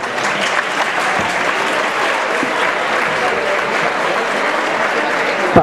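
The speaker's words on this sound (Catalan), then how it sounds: "un aplaudiment per a Emi Climent i per a Marta Chaffer" Sustained, dense applause from an audience at a high school graduation ceremony, loud and even throughout with no pauses.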